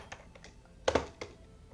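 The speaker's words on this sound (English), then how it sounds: "my keyboard is making so much noise, I don't like it" Quiet computer keyboard typing during a Pokemon co-op game session, a scatter of separate clicks with a louder double clack near the middle, close and alone.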